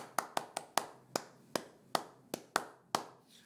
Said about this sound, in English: I'm just going to clap it.